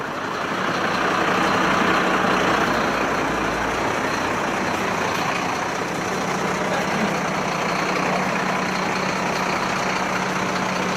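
A new Mercedes fire brigade truck for a volunteer fire unit idling, a steady heavy diesel rumble with a constant broadband roar that holds evenly throughout, close and with no talking.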